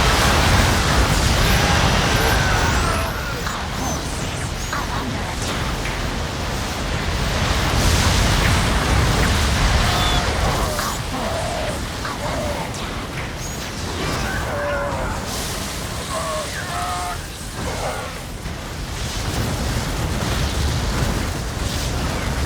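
Bombs exploding in the real-time strategy game StarCraft II, a run of heavy booming blasts and crashing bursts layered over continuous battle noise, with game voices talking over the barrage.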